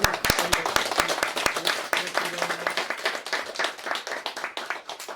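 An audience at a Korean traditional culture festival applauds gayageum and percussion performers, starting with sharp close handclaps and settling into a dense, fading round of clapping, with a voice briefly audible.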